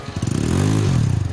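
A rental motorbike at a beach ride revs nearby, its engine putting out a loud, rising and falling buzzing drone with a rapid pulsing rhythm that lasts just over a second.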